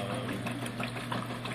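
A Sears Roebuck washing machine runs a regular cycle loaded with 15 shirts, giving a steady, continuous mechanical hum and churning drone at close range with no pauses.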